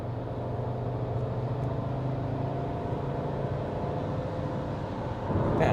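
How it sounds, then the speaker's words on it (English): A car engine drones steadily through a corner while being driven in manual mode with a downshift, the revs and loudness lifting sharply in the final half second. "I'm now in the manual mode, we downshift, and then we go through the corner."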